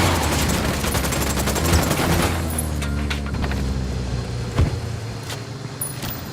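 Dense bursts of automatic gunfire in Ghost Recon Wildlands, with rapid repeated shots over a low rumbling vehicle engine, loud and continuous, with one sharp blast near the end.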